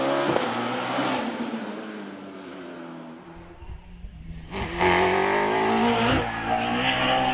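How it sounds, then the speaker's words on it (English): A Caterham race car fitted with a Hayabusa engine runs the Prescott hillclimb course, its engine note screaming at high revs and then dipping as it shifts. It climbs again loud and close, with a brief sharp transient partway through. "Andrew Griffiths, similar car, Caterham Hayabusa"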